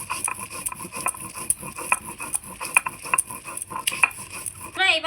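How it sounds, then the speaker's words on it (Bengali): Dried and green chillies are ground together by hand on a stone in a home kitchen. A steady, rhythmic scraping and grinding runs close by without any talking. "শুকনো লঙ্কা আর কাঁচা লঙ্কা দুটোই মিক্সড করে আমি বেটে নিচ্ছি একসঙ্গে।"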